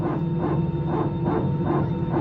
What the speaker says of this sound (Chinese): 看看刚才一直狗叫的飞机